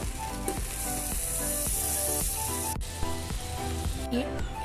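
A cube of butter sizzles loudly as it melts in a large pressure cooker while pav bhaji is being made: a steady, close crackle and hiss with small pops, heard alone.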